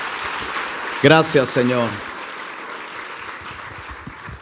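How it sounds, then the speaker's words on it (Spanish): Church congregation applause during a Sunday service, continuous clapping throughout with someone briefly speaking over it. "Termine dándole el aplauso a Él."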